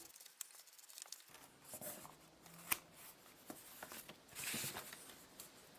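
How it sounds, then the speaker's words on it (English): Scissors cut out replacement soles for sheepskin boots, making quiet intermittent snips and scraping crunches up close, with a few sharper clicks among soft rustling. "Now I'll cut out the soles with scissors."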